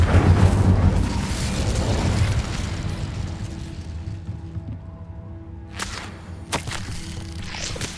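The Incendio fire spell is cast in the video game Hogwarts Legacy, a loud whooshing burst of flame that roars and fades into a low crackling hum, followed by a few sharp snapping bursts.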